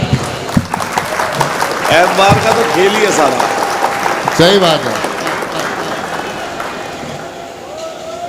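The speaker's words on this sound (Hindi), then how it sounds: "ताली बजाइए।" Audience clapping at an All India Mushaira poetry gathering: sustained, loud crowd applause running throughout, with voices talking and calling out over it.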